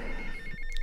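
An in-game telephone rings in GTA Vice City, a continuous electronic trill heard close and steady over background game noise, with no talk.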